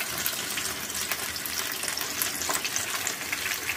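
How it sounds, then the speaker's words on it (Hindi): Butterfly chicken pieces deep frying in hot oil, a steady close hiss and crackle of bubbling oil that continues without a break, with no talking. "अभी एक यहाँ फ्राई हो रहा है"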